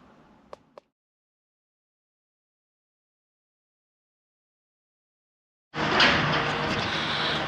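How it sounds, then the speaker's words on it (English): Construction work on a neighbour's driveway being redone: after a few faint knocks and a long silence, a loud, steady broadband machinery roar starts abruptly near the end and continues without a break. "Apologies for the noise in the background, but neighbours are having their drive redone."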